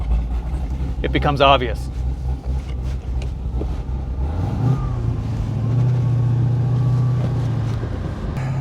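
A 525 hp LS3 V8 swapped into an ND Miata cranks and fires midway, then settles into a deep, steady idle close by. Someone talks before and over the starter.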